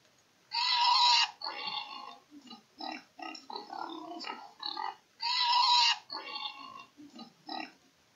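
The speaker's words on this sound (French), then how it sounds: "Mais le cochon grogne et se roule dans la boue." A pig grunts and snorts in a series of short, close bursts, with two louder squealing grunts separating the rhythmic snuffling.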